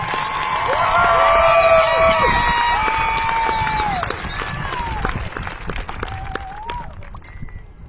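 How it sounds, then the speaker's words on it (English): Graduation crowd at an evening high school commencement applauding the class of 2022, loud sustained clapping with cheers and whoops that gradually tapers off, a few shouts and whistles above the crowd. "Can we give them a round of applause?"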